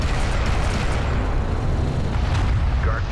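Turrets being destroyed by a carrier in the strategy game Homeworld: Deserts of Kharak, dense continuous rumbling explosions and booms, loud and layered without a break.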